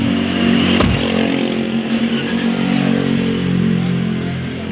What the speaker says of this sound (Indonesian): Terus kita coba hidupkan mesin.